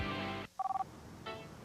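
A telephone in a TV advert gives a short burst of four or five quick electronic rings, alone and fairly clear, set between a voice speaking before and after.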